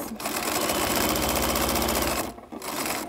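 A sewing machine runs a steady, fast stitch along a pillowcase seam for about two seconds, stops briefly, then starts again, as if backstitching. The motor is close and loud, and no one speaks over it.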